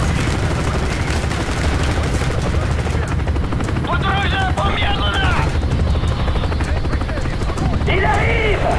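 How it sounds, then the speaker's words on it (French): Enemy attack helicopter in Call of Duty Black Ops, its rotor drone steady and loud throughout, with bursts of gunfire and battle noise around it and shouted voices breaking in. "Merde, hélicoptère d'attaque ennemi."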